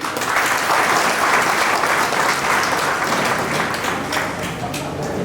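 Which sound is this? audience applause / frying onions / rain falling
audience applause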